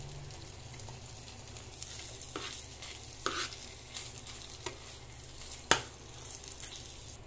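Carrots tumble into a hot pan and are stirred and fried, a steady low sizzle with scraping stir strokes and a few sharper clanks of the utensil against the pan, close and without talk.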